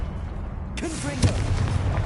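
The Confringo blasting spell from a Harry Potter video game bursts with a sudden explosive boom after a spoken incantation, its deep rumble trailing on beneath the game's background.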